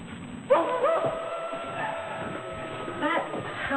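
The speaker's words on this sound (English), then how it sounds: "That howling sound." A dog lets out a drawn-out, wavering howl that rises and falls, with someone talking over it and a faint whistle-like tone.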